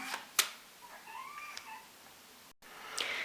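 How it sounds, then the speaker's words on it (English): A pet cat gives a soft, faint meow indoors, a short rising-falling call followed by a quieter second one, with a few light bumps around it and no speech. "my cat just came in there to say hello, you might have heard her."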